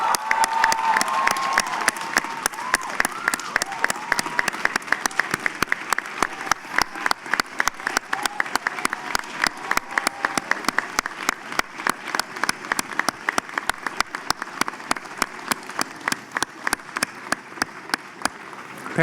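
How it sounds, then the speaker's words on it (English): A large commencement crowd gives sustained applause for parents and grandparents, with many hands clapping in a strong, near-rhythmic patter and scattered cheers carrying throughout at a loud, steady level. "Class of 2014, will you join me in a round of applause for your parents and grandparents?"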